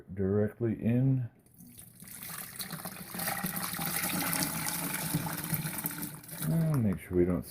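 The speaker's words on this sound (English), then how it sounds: "Just add hot water," Hot water, a liter or two, poured straight into a water softener tank during a manual regeneration and iron removal, a steady rushing splash for several seconds, bracketed by a person talking before and after.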